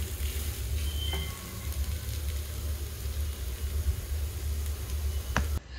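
Minced chicken keema frying in a pan for biryani, a steady close sizzle and hiss throughout with a faint low hum beneath and a couple of light clicks of a utensil.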